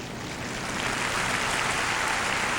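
Arena crowd at the 1994 Commonwealth Games women's gymnastics event finals applauding a gymnast after her beam routine, a broad continuous roar of clapping that swells slightly and holds, heard from a distance with no voices on top.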